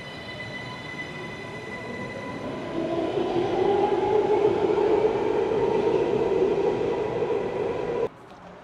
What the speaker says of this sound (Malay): bon voyage untuk train menuju ke Johan Setia